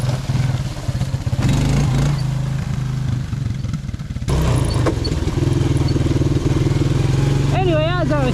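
A 1984 Suzuki LT185 ATV engine revs hard and loud while the machine pops a wheelie, a steady close-up drone with surges and throttle changes that runs through the whole stretch, with some clatter and a high whine near the end.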